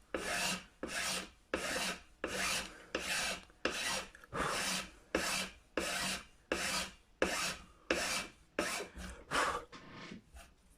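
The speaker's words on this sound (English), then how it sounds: "you can see with the plastic nut, a good file just tears right through it." A file rasps across the plastic nut of an Ibanez Gio guitar in about fourteen even back-and-forth strokes, close and clear, with short pauses between each pass.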